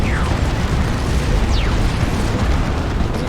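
A Leman Russ tank destroyed during a 3v3 Dawn of War 2 battle: a dense, sustained roar of in-game explosions and bursts, with no pause, while other weapons fire through the noise.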